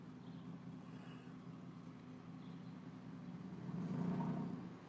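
Street traffic of cars hums faintly in the distance, a low steady engine drone that swells as a vehicle passes near the end.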